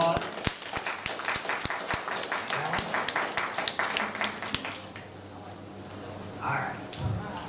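Applause at a Halloween costume and dance event in an Illinois veterans home, scattered individual claps over chatter from the crowd, thinning out after about five seconds as talking carries on.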